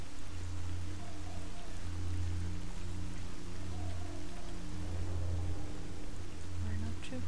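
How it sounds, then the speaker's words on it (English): Rain falls at night by a rail bridge in the S.T.A.L.K.E.R. mod Call of the Zone, a steady soft hiss over a low droning game ambience, continuous and even with no voices. "Oh, now it's raining."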